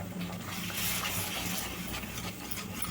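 Water pours steadily into a simmering dhaba-style egg curry gravy, a continuous gushing splash that lasts a few seconds with no voices.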